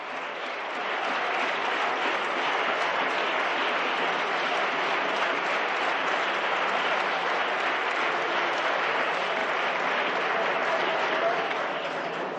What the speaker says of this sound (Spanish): los diputados aplauden con mucho entusiasmo